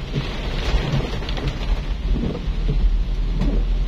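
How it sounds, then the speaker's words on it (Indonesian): Steady morning rain pours down in Manado with a dense hiss, joined by low rumbling that sounds like distant thunder, with no voices. "Tetapi ini hujan"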